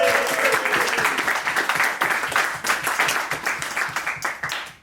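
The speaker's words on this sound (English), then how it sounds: "Give them a round of applause," A studio audience on a comedy panel game show gives sustained, dense applause with clapping and a few cheers, steady and loud for the whole stretch before fading slightly at the end.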